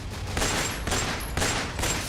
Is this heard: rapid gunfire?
yes